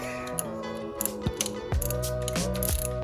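A hand ratchet clicks in quick bursts while loosening bolts on a Honda S2000 starter, its pawl rattling in uneven runs of close, crisp ticks with short pauses between strokes.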